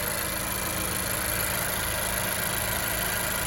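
The small turbocharged engine of a 2017 Honda Civic Sport Hatchback idles close by with a steady, even hum and faint vibration, and no voices.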